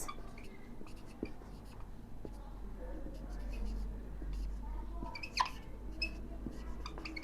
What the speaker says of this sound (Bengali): চার্লস উইলকিন্স নামটা আমরা লিখি